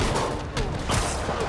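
Rockets firing in Marvel's Spider-Man Remastered, a loud continuous barrage of blasts and explosions with rumbling impacts and no pause between them.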